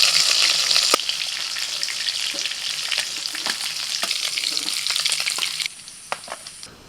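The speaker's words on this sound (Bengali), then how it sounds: "পিঠোকে উল্টে পাল্টে লাল লাল করে মাছগুলোকে ভেজে নিয়েছি।" Bata fish frying in hot oil and being flipped over: a loud, steady sizzle with scraping and clicking from the turning, which drops to a quieter hiss near the end. No talking.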